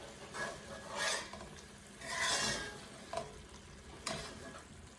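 Canned callaloo being stirred in a hot pan, with soft sizzling and several scraping swirls of a spoon, moderately quiet and without talk.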